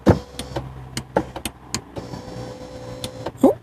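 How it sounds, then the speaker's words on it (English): Electric seat motor in a Jaguar XF whirs steadily as the seat moves, with a faint continuous hum broken by several sharp clicks and knocks from the switchgear close by. "I can hear the pump."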